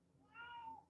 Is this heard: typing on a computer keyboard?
no